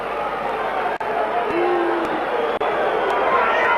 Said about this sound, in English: And that will really get the crowd stirred up